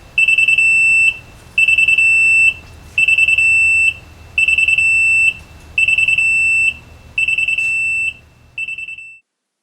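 An AVW 400 machine's intrusion alarm sounds a loud, piercing electronic beep in six even, sustained pulses about a second apart, then a shorter seventh that tails off into silence.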